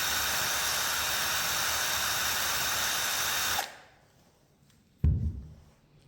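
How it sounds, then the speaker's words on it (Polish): A wire brush spinning on a cordless drill to clean rusty, painted nails: a loud, steady abrasive whirring that stops abruptly, followed by a short burst of scraping handling noise after a pause. "Ja spróbuję tą na początek, na wkrętarkę i zobaczymy, jak się będą te gwózdki czyścić."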